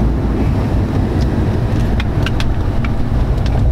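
An Audi R8 sports car rolls along a bumpy country road, its engine and tyre noise a steady low roar inside the cabin, with a few sharp knocks from bumps in the road.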